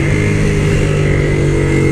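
A Honda XRE 300 Adventure motorcycle from 2022 idles steadily, its engine close and loud with an even, continuous hum and no talk.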